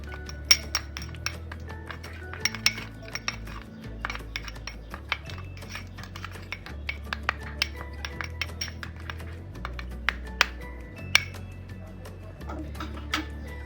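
A spoon clinks and scrapes against a bowl while potato face mask ingredients with lemon juice are mixed, with steady irregular taps and clicks over a low background hum.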